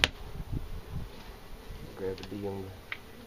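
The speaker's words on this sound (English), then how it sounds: "Bunch of bees all through there." Bees buzz steadily and close around an open beehive being searched for honeycomb, a continuous dense hum with a brief murmur of voices partway through.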